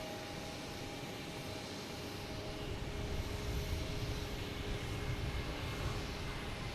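An Aer Lingus airliner at Boston Logan Airport gives off a faint, steady jet rumble with a thin engine whine that builds slightly partway through, with no voices.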